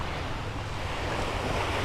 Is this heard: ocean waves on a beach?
yes